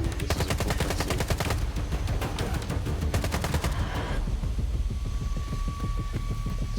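Rapid automatic gunfire bursts rattle loudly and continuously in a S.T.A.L.K.E.R. 2 game cutscene, dense volleys giving way to sparser, slower shots near the end.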